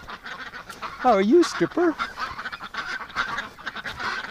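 Ducks give a few close, nasal honking quacks in a quick burst, while someone talks softly to them before and after.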